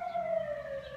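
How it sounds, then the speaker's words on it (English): Emergency vehicle siren heard outdoors in Las Vegas, a single sustained wailing tone slowly falling in pitch, moderately loud and close, lasting about a second with no voices over it. "sorry about the sirens if you could hear it"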